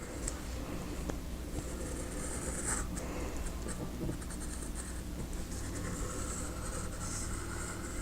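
A compass point and pencil scratch steadily across paper while a circle is drawn, producing a continuous close, soft scraping over a constant background hum.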